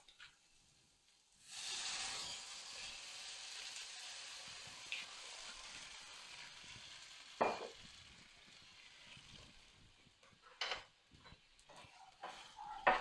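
Rice wine vinegar, soy sauce and sesame oil hit a hot pan holding deep-fried seabass with garlic, ginger and chilli, bursting into a loud, steady sizzle and hiss with a few utensil clinks near the end.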